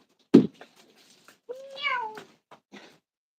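A cat meows alone: a soft thump, then one clear, drawn-out meow with a rising then falling pitch, followed by faint small noises in an otherwise quiet room.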